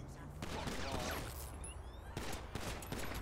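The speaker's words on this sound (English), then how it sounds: "Shots fired. Shots fired." Rapid gunfire in GTA V during a police traffic stop, a dense burst of close shots layered with a second volley, loud and continuous under the game's background noise.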